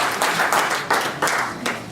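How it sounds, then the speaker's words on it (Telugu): Seated audience at an industrial development conference clapping loudly, a close, uneven wave of applause that surges and eases in a few pulses over a couple of seconds, with no talking. "జర గట్టిగా చప్పట్లు పెట్టి ఉత్సాహాన్ని ప్రదర్శించాలి"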